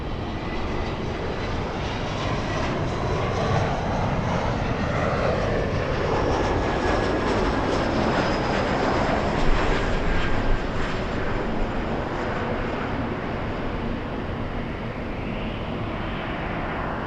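Airplanes at Los Angeles LAX airport, a steady loud engine roar that lasts the whole stretch as aircraft idle and taxi, with a faint rising whine over the drone.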